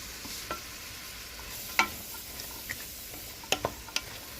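Black bean soup mixture being stirred in a pot: a soft continuous low sizzle with a few sharp spoon taps and clinks against the pot, close and fairly quiet, no talking.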